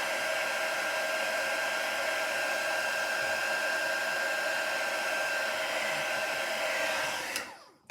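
A heat tool blows hot air to heat-set Distress Ink on paper stamped with a faux batik design. Its steady, loud, close whirring roar runs unbroken for about seven seconds, then cuts off.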